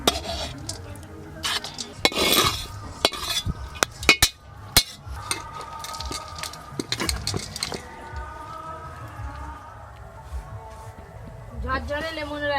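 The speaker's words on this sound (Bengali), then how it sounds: "এবার লেমন রাইস ঢেলে নেব।" Lemon rice being served into a dish, with scraping spoon and clinking cutlery against pots and plates in irregular bursts, under a voice talking nearby.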